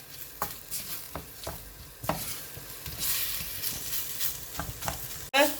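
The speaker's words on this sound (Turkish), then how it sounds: "Soteledik." Food for rice pilaf sizzling and frying in a pan, with repeated scraping and stirring strokes of a utensil, close up, ending with a sharp clatter.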